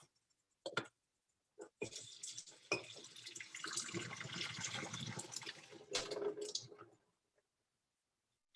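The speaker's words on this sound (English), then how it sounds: "I'm gonna put the lid on top and I'm gonna just kind of pour the water off" Water is poured off boiled potatoes from a lidded pot into a sink, a few clinks of the lid, then a steady splashing gush for about five seconds that trails off, with no talking.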